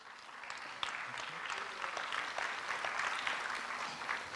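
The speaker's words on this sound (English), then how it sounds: "he needs a round of applause for that" Steady applause from a conference audience at an international homoeopathy conference, dense clapping that holds at an even level throughout with no voices over it.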